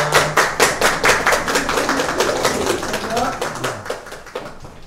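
An audience applauds in rhythmic clapping that stays steady, then thins out, under a host talking.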